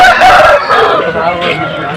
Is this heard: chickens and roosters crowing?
yes